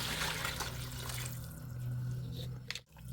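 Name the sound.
water poured into pan of fried vegetables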